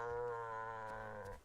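A goat bleats in the western survival game Legend of California, one drawn-out, nasal, close-up bleat that lasts just over a second and then trails off.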